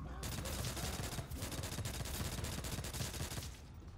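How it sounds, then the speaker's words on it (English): Ray gun fired rapidly in World at War Nazi Zombies, a dense steady stream of energy blasts that stays loud and continuous for a few seconds, with voices faintly underneath. "Spam the ray gun."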